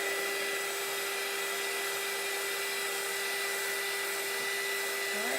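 A hair dryer blows on a t-shirt, giving a steady, loud, unbroken whine and rush of air with a constant pitch for the whole five seconds, close to the listener.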